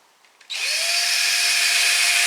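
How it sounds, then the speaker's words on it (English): A power drill spins up sharply into a steady high whine, boring a hole to fasten an orchid mount, close and loud after a brief quiet start. "Now I've got another two holes to drill to fasten the other one on"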